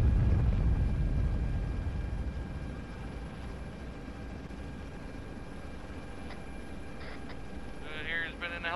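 A helicopter in Arma 3 drones with a heavy low rotor rumble that is loud at first and then eases, while brief electronic tones and cockpit warning beeps chirp near the end.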